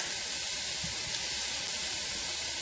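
Garlic cloves added to a pan with asparagus for soup, a steady close hiss and sizzle of frying with no talking.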